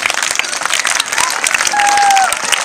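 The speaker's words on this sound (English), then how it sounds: "Let's give her a big enough clap." An audience applauds at a school event for a kindergarten (LKG) girl, steady dense clapping throughout with a faint whistle-like tone partway through.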